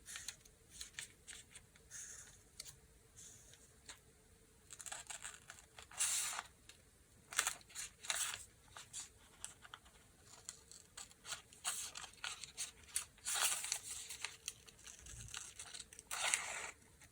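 Scissors snip through paper to cut out a hand-traced star shape, quiet irregular bursts of crisp cutting and rustling paper separated by short pauses, no talking.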